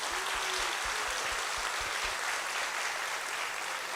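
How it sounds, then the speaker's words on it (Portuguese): A church congregation applauds in a worship service, a steady dense wash of clapping that holds at an even level throughout, with no voices over it. "Uma salva de palmas para Jesus."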